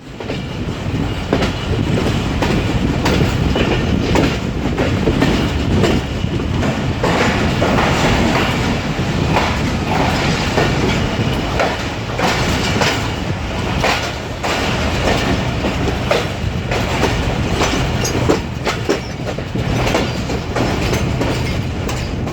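A passenger express train pulls out of a platform at Hyderabad railway station, Pakistan, rumbling steadily with rhythmic clickety-clack of wheels on rails, loud and continuous, as carriages roll past close by.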